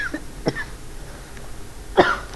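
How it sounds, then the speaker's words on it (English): Short bursts of coughing and throat clearing from a person in a cold room, a few scattered hacks in quick succession, close and fairly loud with no talking over them. "It's cold. It's got me coughing."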